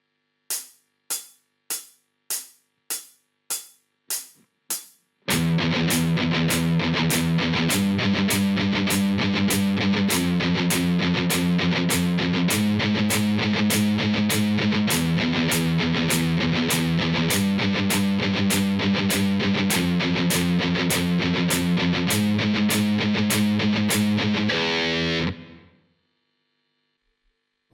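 Eight sharp click-track ticks count in, then a loud distorted electric guitar chugs a fast galloping rhythm for about twenty seconds before stopping abruptly.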